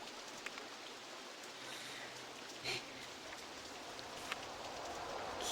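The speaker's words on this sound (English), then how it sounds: "Oh, there's rain." Rain in the video game RollerCoaster Tycoon 2, a steady soft hiss of falling drops with a few brief louder ticks, heard alone and at an even level throughout.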